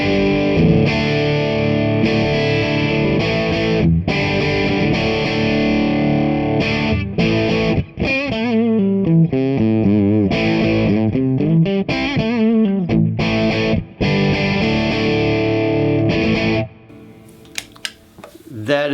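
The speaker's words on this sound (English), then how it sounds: "now we're running through a Rockerverb 50," Electric guitar through an Orange Rockerverb 50 amp on its clean channel, loud and continuous with sustained chords, shifting strummed and picked passages, and a thick, saturated-sounding tone before cutting to quieter high notes at the end.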